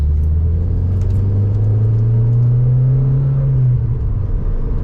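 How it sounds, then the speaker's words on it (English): An MG ZR 160 hot hatch in Monogram Twilight trim drives steadily, its engine a loud, continuous low drone from the cabin, the pitch rising slightly as it pulls, then easing off near the end. "what a lovely drive out in this Monogram MG ZR 160"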